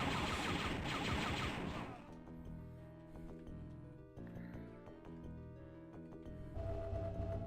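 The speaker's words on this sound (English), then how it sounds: "You get to actually watch me shoot people now" Rapid gunfire in the video game Dark Forces Remaster, a dense loud fusillade at the start giving way to spaced repeated blaster shots and a final burst, continuous throughout.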